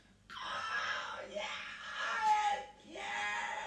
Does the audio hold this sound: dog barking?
no